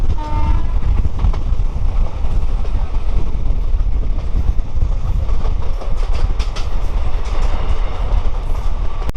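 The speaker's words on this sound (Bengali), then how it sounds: "আমাদের ট্রেনটা এখন ঝমটপুর বড়হান" A passenger train runs steadily on the tracks between Katwa and Azimganj in Murshidabad, its loud continuous rumble and rattle of the carriages filling the whole stretch, with a brief horn-like tone near the start.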